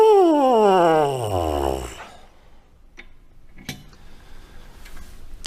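A brass cup-shaped trombone mouthpiece buzzed on its own, giving a loud wavering tone that slides downward over about two seconds, followed by a few faint clicks and rustles.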